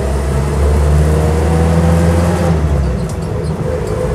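A Land Rover Lightweight engine runs loud and close, a steady mid-pitched drone that rises with a brief rev before easing off near the end.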